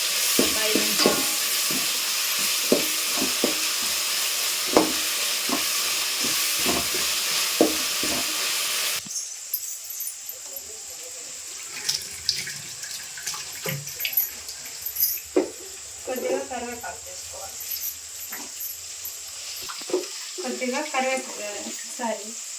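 Ginger paste fries in a pan in a home kitchen, sizzling brightly with scraping stirs over about nine seconds. After that the sizzle drops away, and quieter clinks, stirring and speech follow.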